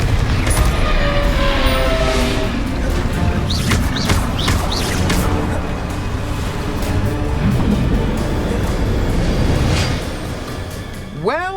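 Bursts of magical spell combat in Hogwarts Legacy, Confringo explosions among them, loud booming blasts and crackling impacts with whooshing swoops, rolling on for several seconds before easing off.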